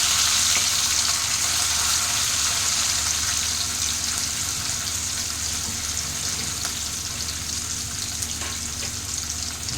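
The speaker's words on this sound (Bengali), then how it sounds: "তো ইলিশ মাছগুলো এভাবে আস্তে আস্তে 10 মিনিট একটু হালকা ফ্রাই আমি করে নেব।" Hilsa fish pieces fry gently in hot oil over a low flame, producing a steady, dense sizzle that holds at an even level from start to finish with no talking.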